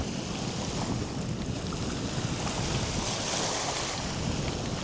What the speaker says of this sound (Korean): 이 파도가 진짜 잠잠해지지를 안 하네요